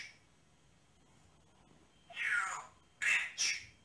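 Birds let out three harsh, loud squawks in the second half after a quiet stretch, each one short and abrupt, coming from a video of cussing birds.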